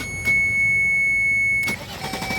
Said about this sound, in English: If I give ground here, the car will crank because it will bring power here.